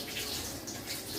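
Mangosteen fruit rinsed under running tap water, a faint continuous splashing stream, heard alone.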